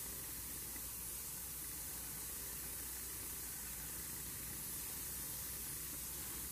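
A steady, even hiss of an H&S Infinity airbrush spraying paint through a 0.2 tip continues unbroken throughout, with no pauses and no talking.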